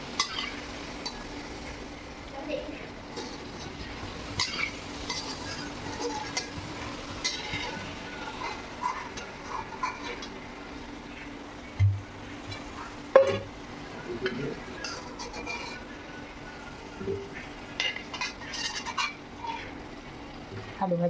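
Potatoes fry in a pan with a soft, steady sizzle while scattered scraping knocks and clicks of a spatula come and go as they are stirred.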